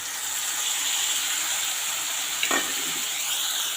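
Ground spice paste mixed with water and grated ginger fries hard in a pan for a broccoli dish, giving a loud, steady sizzling hiss throughout, broken once by a quick scrape of stirring.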